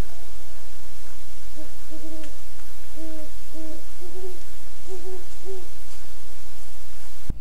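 A great horned owl gives a series of deep, paired hoots, repeated several times at a steady pace over a constant background hiss, fairly distant and alone.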